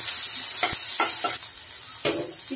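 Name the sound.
onions sautéing in a pan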